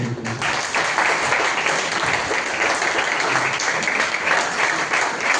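Sustained applause from an audience at a shloka recitation competition prize distribution, a thick steady wash of clapping that stays loud from start to finish with no speech over it.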